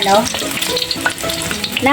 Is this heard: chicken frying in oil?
yes